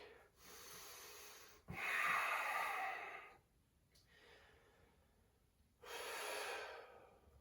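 Slow, deep yoga breathing during a seated pose: long inhales and exhales sound close and clear, alone, as three drawn-out breaths with a short quiet gap before the last.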